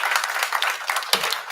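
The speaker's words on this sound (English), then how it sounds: "Let's give him a round of applause for being here." An audience at a university board of supervisors meeting breaks into steady, close applause, dense clapping filling the whole moment without any voices.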